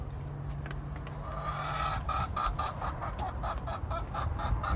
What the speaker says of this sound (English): And it's lots of chickens and roosters.